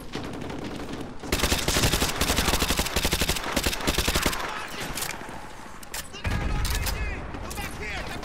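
Rapid bursts of gunfire from Call of Duty Modern Warfare 2 Remastered, dense and loud across the clip, with a player talking over the shooting.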